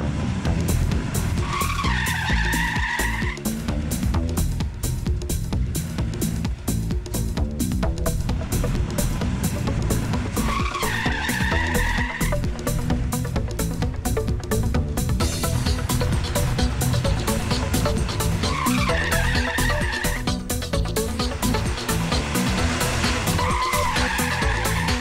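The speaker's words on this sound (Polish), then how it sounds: "ten samochód będzie Wam wyjeżdżał tyłem." Car sliding out at the rear under the handbrake during driving exercises, tires skidding and squealing in repeated loud bursts over a constant roaring engine, close and continuous.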